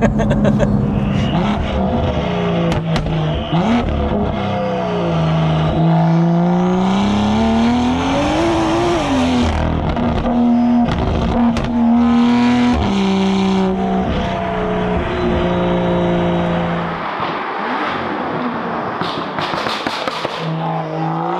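BMW M2 with a hybrid turbo and meth injection revving hard and downshifting, loud rising and falling engine pitch with sharp pops and crackles on the shifts, heard close from inside the car.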